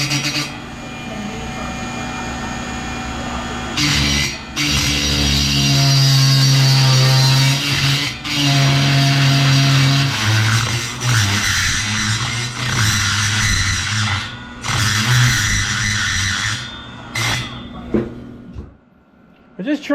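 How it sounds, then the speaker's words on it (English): A die grinder grinds weld tacks off a heavy steel treasure chest, a loud sustained whine with short pauses and restarts, while someone talks over it. "so I'm going to end up using a die grinder"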